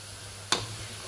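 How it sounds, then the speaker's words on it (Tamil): Onions frying to golden in a pan: a steady, moderate sizzle with one quick, sharp scrape of a spoon stirring them partway through. "இப்போ எங்களோட வெங்காயம் கொஞ்சம் பொன்னிறமாயிட்டு நாங்கள் இதை இன்னொருக்கா கிளறி விடுவோம்."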